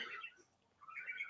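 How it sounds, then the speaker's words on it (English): A pet parakeet sings in a room, soft chirpy warbling that fades briefly in the middle and then returns, faint and distant, with no one talking. "No, I mean you can hear the bird singing"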